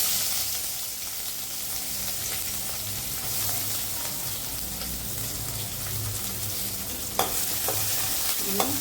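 Mustard seeds, two dried red chillies and onion fry in a little oil, giving a steady close sizzle and hiss throughout, with a few sharp spoon taps and scrapes against the pan near the end.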